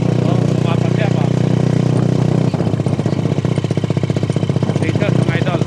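A long-unused motorcycle engine runs roughly and loud up close, its throbbing idle breaking into uneven, sputtering pulses as it misfires, with a voice talking over it.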